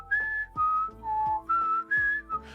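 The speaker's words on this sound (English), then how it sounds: "I whistled the Jeopardy song" Someone whistles the Jeopardy theme tune. The whistling is a clean, close series of short held notes with small gaps between them. It is heard alone, with no talking.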